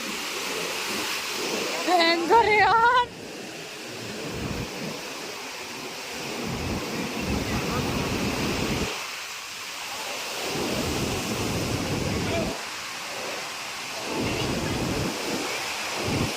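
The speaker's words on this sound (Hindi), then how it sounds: "ये जो आपने पानी की आवाज़ सुनी ना" River water in Manali rushing in a continuous loud roar, with a short burst of voices early on and the flow steady throughout.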